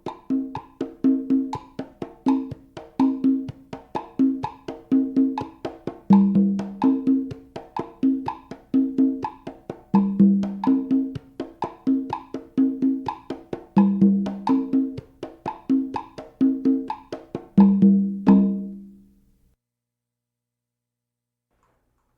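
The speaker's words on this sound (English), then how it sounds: "This is the basic tumbao that I play through the cha-cha-cha in a 2-3 clave" Conga drums play a basic cha-cha-cha tumbao in 2-3 clave, a steady, close, repeating pattern of slaps and open tones with deep booming accents every few beats, ending abruptly into silence.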